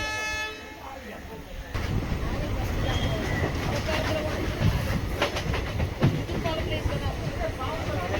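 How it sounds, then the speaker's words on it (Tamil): A passenger train pulls into Pamban railway station on the Rameswaram to Tiruchirappalli line. A horn toot is followed by a steady rumble and wheel clatter, with background voices. "பாம்பன் ரயில் நிலையம் வந்தாச்சு."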